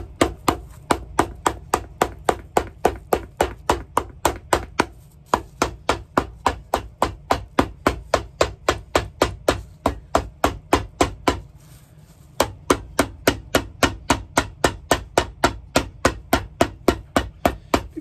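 Steady, rapid hammer strikes ring out close by in a regular rhythm, with two short pauses before the pounding resumes.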